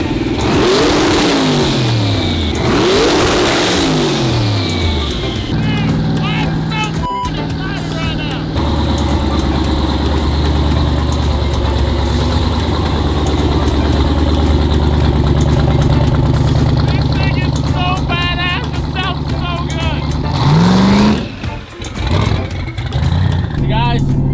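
Turbocharged car built as a high-speed cop car, its engine running and revving outdoors with loud rising sweeps at the start, then a steady rumbling idle, and another rev near the end; people talk over it.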